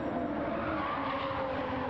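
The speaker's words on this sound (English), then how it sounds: "Tyres squealing." Race car tyres squealing and skidding under a steady engine roar in the video game Gran Turismo 7 at Brands Hatch, loud and continuous throughout with no voices.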